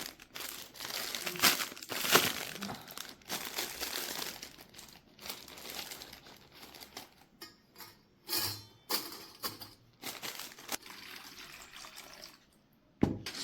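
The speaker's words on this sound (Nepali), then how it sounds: "सबै स्टिकलाई यसरी गरम पानीमा सफा गर्ने।" Kebab skewers being washed in hot water: intermittent splashing and trickling with crinkly clicks and taps of sticks knocking together, close and uneven in bursts.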